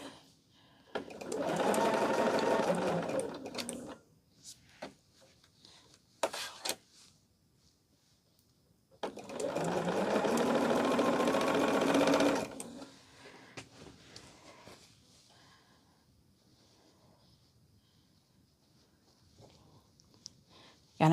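A sewing machine stitches fabric in two long bursts of rapid whirring, close and loud, separated by quiet gaps with small clicks and handling noises.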